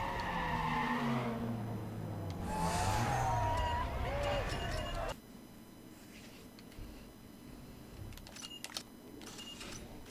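Car skidding and drifting downhill in Need for Speed Underground 2, a loud engine roar with squealing tires over the first five seconds, then quieter racing noise with brief clicks and a voice talking over it.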